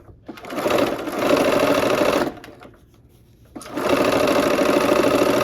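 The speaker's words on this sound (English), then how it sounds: "let's go ahead and sew these together" A sewing machine stitches quilt blocks together for a barn quilt sampler, running in a steady close whir, pausing briefly, then starting again for a second run.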